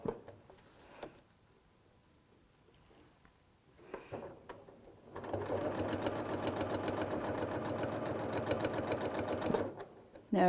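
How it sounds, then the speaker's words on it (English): A sewing machine quilting starts up after a quiet stretch and runs steadily at speed for several seconds, a fast even mechanical whir, with a brief voice early on. "the challenge of quilting on your sewing machine"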